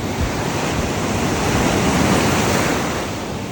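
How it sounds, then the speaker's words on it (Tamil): Big sea waves break and surge at the shore in a loud, continuous roar of surf, with wind noise and no voices. "கடல் கொஞ்சம் அலைகள் பெருசாக இருக்கிறதால கொஞ்சம் கஷ்டமாக இருக்குது."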